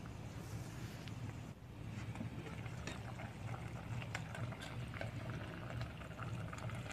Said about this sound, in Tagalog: Hayaan ko lang nakumulo.